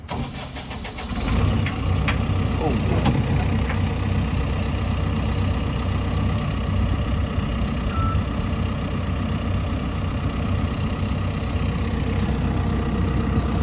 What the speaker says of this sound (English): I'm going to go ahead and start the machine.